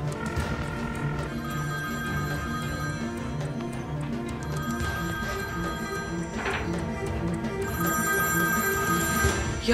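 A telephone rings in a Turkish TV drama scene, its bell-like trill repeating steadily at moderate level over a busy background of music and room sound, with no talk during the ring.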